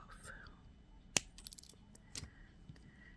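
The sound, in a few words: clippers cutting an eye pin for doll jewelry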